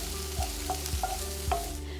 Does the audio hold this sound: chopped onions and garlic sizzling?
yes